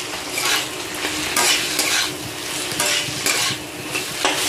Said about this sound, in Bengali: আলুটা আমি মশলার সঙ্গে অল্প ভেজে নেব।